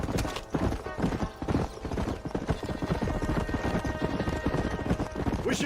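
Horse hooves trot in the video game Red Dead Redemption, a loud, close, rhythmic clip-clop that keeps an even pace throughout with no talking.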